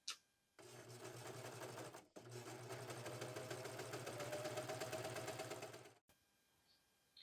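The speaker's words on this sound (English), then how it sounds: "I'm going to do all my sewing on the serger." A serger stitches the short edges of a knit turtleneck collar piece into a tube, running in a steady, loud whir that starts and stops with a brief pause near the two-second mark, then halts abruptly, with no talking.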